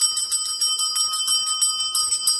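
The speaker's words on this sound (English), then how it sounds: "If you see I'm continuously ringing the bell, this will distort the energy." A hand bell rings continuously during a smudging ritual to cleanse a home, giving bright, loud, rapid strikes that run in a steady shimmering pattern with no voices.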